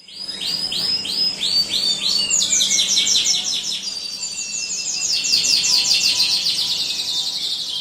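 A canary sings alone in a long, bright run of rapid trills and warbling chirps, loud and close with barely a pause.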